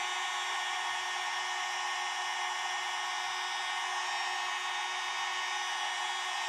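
A cheap heat gun hums and blows a loud, steady airflow while heating embossing powder, continuous and close throughout without speech.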